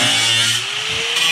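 Rusted carriage bolts on a 1928 Ford Model A being ground off, a loud continuous abrasive whine with a gritty rasp up close.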